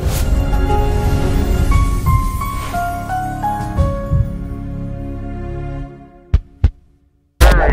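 A heartbeat sound effect in a radio ad: after a melody of sustained tones fades out, two deep thumps land close together, followed by a loud burst.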